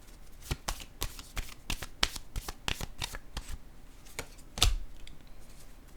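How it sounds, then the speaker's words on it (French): Cards are shuffled by hand for a tarot-style reading, a close run of crisp riffling snaps repeating rapidly, with one louder slap near the end. "Là, je vais piger une autre carte pour cette zone."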